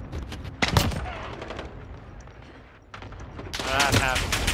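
Rapid gunfire bursts crackle through a video game match, with sharp close shots at the start and a dense volley near the end over a steady background din.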